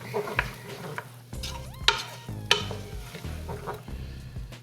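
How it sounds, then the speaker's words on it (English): Vegetables with onions and garlic are stirred in a pan with a spoon, giving scraping, clattering strokes and a few sharp metallic knocks over a low sizzle, close and moderately loud. "you want to get these veggies nice and mixed up with them onions and that garlic"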